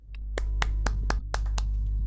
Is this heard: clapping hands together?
yes